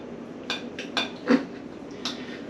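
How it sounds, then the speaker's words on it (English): A knife and fork cutting into chicken parmesan on a plate, giving four or five light, close clinks and scrapes of metal on the dish over a quiet background. "Let's cut into it and take a look."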